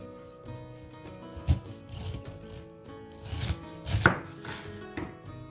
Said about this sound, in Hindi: हेड काटने के बाद अब आपने पाइनएप्पल की ये नीचे वाली साइड काटनी है।